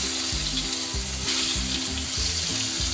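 Potato pieces fry in hot oil in a pan that had just held fried eggplant, a continuous close, busy sizzle with a low pulsing hum beneath it and no talking.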